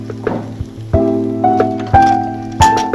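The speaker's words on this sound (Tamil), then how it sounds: "இந்த வெங்காயம் நல்லா வதங்கிட்டு இருக்கு" Onions sauté in a hot pan for Chettinad fish kulambu, crackling and sizzling up close in short bursts as they are stirred, with sharp spikes from the spoon.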